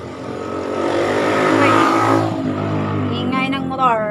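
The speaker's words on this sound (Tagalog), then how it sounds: "ingay ng motor" A motorcycle engine revs up close, rising to a loud peak then settling into a steady idle, with a voice talking briefly near the end.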